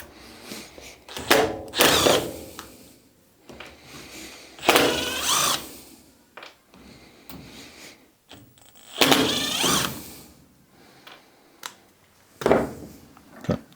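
A power tool backing out damaged Phillips head screws from bench vise jaws, several short whirring bursts of a second or so separated by pauses with small clicks and handling noise, close and fairly loud.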